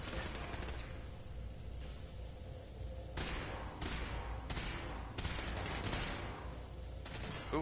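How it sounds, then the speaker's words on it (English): Stray gunfire in Fallout 4 comes as several quiet bursts of distant shots, spaced irregularly over a continuous background rumble. "stray shots coming my way"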